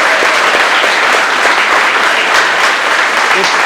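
Students in a night class at a defence academy clap loudly and continuously in dense, close applause.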